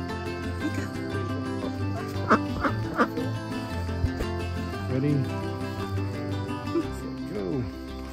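Domestic ducks quack in short, irregular bursts while being carried to a new spot, close to the listener, with a person talking softly over the calls.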